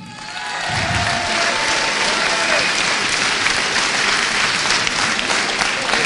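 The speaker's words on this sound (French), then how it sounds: "Merci de réserver vos applaudissements au directeur de cette campagne" A crowd at a La Rochelle municipal election campaign event applauds the campaign director, the clapping building within the first second into sustained, dense applause that holds steady to the end.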